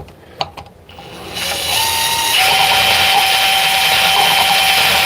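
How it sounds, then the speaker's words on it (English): A power drill bores a hole in a wall beside Romex cable during a homeowner's outlet install: a few clicks, then the motor spins up and whines steadily, loud and close. "we're just going to drill right here."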